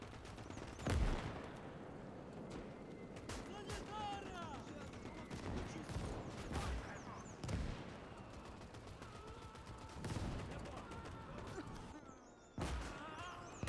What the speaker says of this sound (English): the 12cm mortar is, I think, dropping incendiary rounds or smoke rounds, I can't tell, on that middle point at the moment